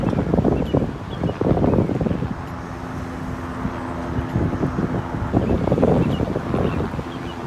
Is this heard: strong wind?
yes